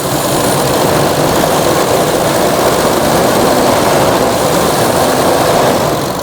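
A carburetted engine runs steadily close by, making a loud, unbroken droning roar with no voices over it.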